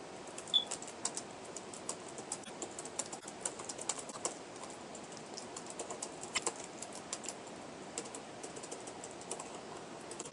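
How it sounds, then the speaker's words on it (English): Fast, steady typing on a computer keyboard, with dense light key clicks close by and a few louder taps, running alone without any talk. "Now I'm just going to type out something random here"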